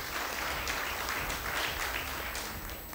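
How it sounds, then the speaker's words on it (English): Brief applause for the judges at a regional knockout semi-final between two schools, a dense, fairly faint patter of many hands clapping for about three seconds. "A round of applause for the judges, please."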